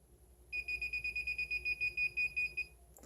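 A handheld portable metal detector emits a steady series of short electronic beeps, pulsing rapidly for a couple of seconds, then stops, followed by a brief click.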